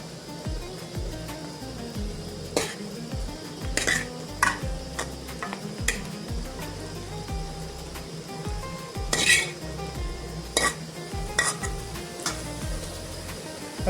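Dill greens being stirred in a pan with salt while cooking, with steady sizzling and frequent scraping, clinking utensil knocks against the pan, close and continuous.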